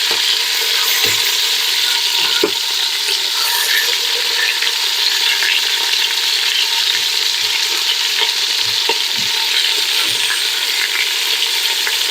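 Steady sizzling from meat browning in hot fat in a pot, with occasional soft clicks and scrapes standing out over the continuous crackle.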